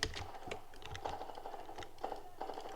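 Rapid, irregular clatter of computer keyboard keys and mouse clicks during a Modern Warfare 2 match, close and steady under quiet game audio, with no talking.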